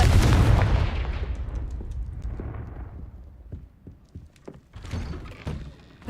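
Confringo blasting curse exploding in a Harry Potter video game: a loud, booming blast that slowly rumbles away, followed by scattered thuds and knocks.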